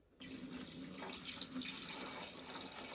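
Water runs steadily from a tap into the reservoir of a Beer Monster draught beer machine, filling it to the max line; a close, continuous splashing flow that starts abruptly and holds an even level throughout.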